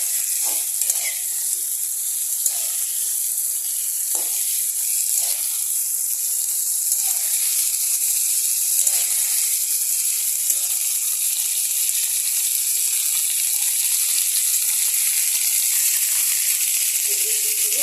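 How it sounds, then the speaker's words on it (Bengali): Mustard greens sizzle steadily in a pan over high gas heat, with a continuous bright frying hiss broken by soft scrapes and taps as a utensil keeps stirring them. "যতক্ষণ না ভাজা হচ্ছে ততক্ষণ এরকমভাবে গ্যাসটাকে বাড়িয়ে নিয়ে নাড়তে হবে কন্টিনিউ, যাতে তলায় লেগে না যায়"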